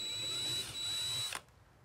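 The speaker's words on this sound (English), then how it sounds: "Get my drill out here and see if I can drill this." Electric drill boring into a small rusted metal part from an American Flyer Pacific toy train, making a steady high whine that cuts off abruptly near the end, followed by quiet.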